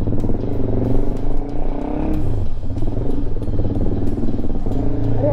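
KTM Duke 390 motorcycle engine running loud and close, a continuous throaty drone with uneven revving surges and some mechanical clatter, no voices over it.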